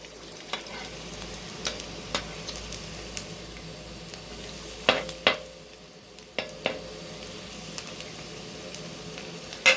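Sun-dried snakehead fish frying crisp in hot oil, a steady soft sizzle punctuated by sharp pops and occasional stirring clinks, close and fairly quiet with no talking.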